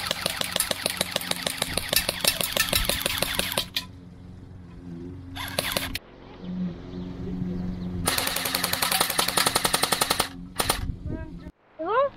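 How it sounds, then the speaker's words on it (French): An airsoft Kalashnikov rifle firing in rapid burst mode, with long rattling strings of fast mechanical shots broken by short pauses. Faint background voices are heard between the bursts. "Alric, test mode rafale."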